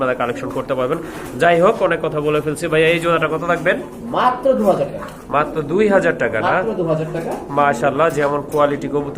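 A pair of racer pigeons coos in low, soft murmurs, mostly buried under near, continuous talking from people close by.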